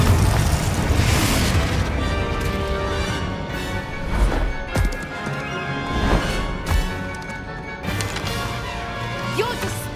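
Confringo spell blasts from the Hogwarts Legacy video game, a dense stretch of booming explosions and crashing impacts that roll together loudly, with game voices mixed in.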